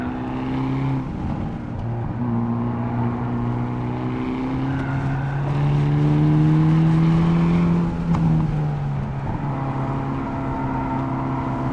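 A 2022 Hyundai Elantra N, front-wheel drive, revs hard on a race track, its engine note rising and falling loud and close from inside the car through sustained pulls, with no talk over it.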